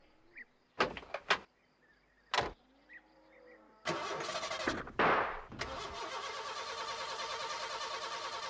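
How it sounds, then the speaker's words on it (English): A cartoon postman's van engine cranks and fails to start: short bursts of starter grinding separated by quiet gaps, then a longer loud cranking churn that sputters and fades into a steady rattling whir, with no voices. "She won't start, Ted."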